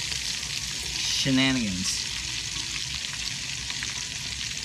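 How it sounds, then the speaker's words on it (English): Food sizzles in a frying pan after being flipped, giving a steady bright hiss throughout, with a single short spoken word briefly over it. "Sizzle, that looks so good."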